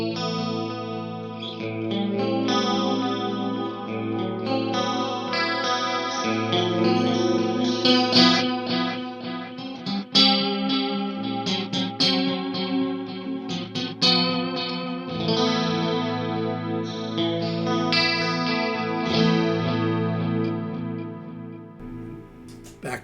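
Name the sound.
guitar chorus effect from Axe-Fx loop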